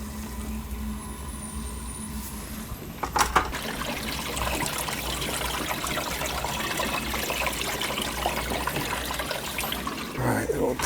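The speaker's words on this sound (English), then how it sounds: "Water coming in." Water runs into a home heating boiler with a steady, soft trickling and rushing under low background hum, while a person speaks briefly and metal clanks sound near the start and end.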